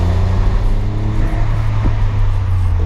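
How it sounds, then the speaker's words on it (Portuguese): A VW Up TSI turbo hatchback accelerating hard in second gear: a loud, steady engine drone with wind rush throughout, and no clear turbo flutter standing out. "Não sei se vai dar pra vocês escutarem o barulho da turbina, mas se liguem só."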